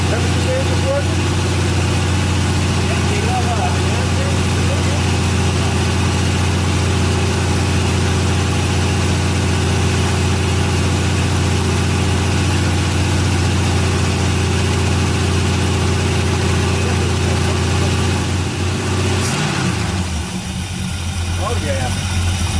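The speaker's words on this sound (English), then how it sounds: "That sounds nice. Look at the idle on that." A 1973 Chevy Camaro with a split bumper, left sitting for at least ten years, idles steadily after a cold start, a loud, close, even engine rumble that holds for over twenty seconds while people talk nearby.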